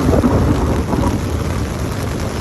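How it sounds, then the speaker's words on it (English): Thunder rumbling through a mountain storm with hail and rain, a dense broadband roar that stays loud and steady throughout the short stretch, without any voices. "You can hear the thunder rumbling."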